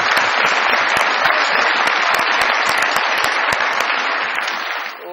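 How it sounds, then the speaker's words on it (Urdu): Studio audience at a Pakistani comedy talk show clapping loudly and steadily for the invited legends, a dense wash of applause that fades slightly at the end. "کیجیے تو لیجنڈز کے لیے بہت ساری تالیاں دیں"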